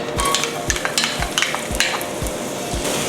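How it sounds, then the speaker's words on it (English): Garlic sizzles in hot oil in a wok for pancit palabok, a steady loud frying hiss with rhythmic scraping stirs of a spatula against the pan about every half second. "Then to start sauteing the garlic and the onion."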